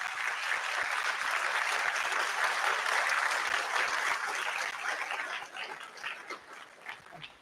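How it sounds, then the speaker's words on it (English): An audience at a school spring band concert applauds for a fifth and sixth grade band in a dense, steady wash of clapping that thins and fades toward the end, with no talk over it. "One more round of applause for the fifth and sixth grade band group."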